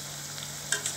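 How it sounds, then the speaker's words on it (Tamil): Sliced ivy gourd fries in hot oil until golden, giving a steady soft sizzle with a couple of brief brighter crackles near the end. "நல்லா ஒரு கோல்டன் ஃப்ரை வர வரைக்கும் நல்லா ஃப்ரை ஆகட்டும்"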